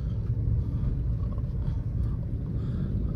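A 2012 Suzuki Swift VDI diesel engine just after a downshift, a low, steady rumble droning from inside the cabin with no audible talk.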